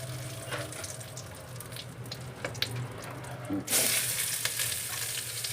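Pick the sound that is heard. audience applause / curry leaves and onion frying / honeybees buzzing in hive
curry leaves and onion frying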